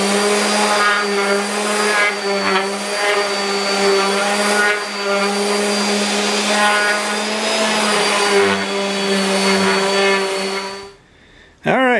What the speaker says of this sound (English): So the first thing we're going to do is sand these down and prepare them